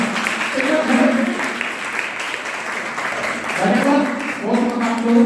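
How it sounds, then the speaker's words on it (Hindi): Applause from an audience at the opening of a computer and sewing centre, heard as a steady wash of clapping under a speaking voice, rising again toward the end. "जोरदार तालियों के साथ धन्यवाद"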